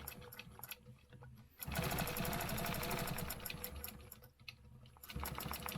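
A sewing machine stitches a half-inch grid stencil, running in a fast steady chatter for several seconds after a quieter start, then pausing briefly and resuming, close and clear.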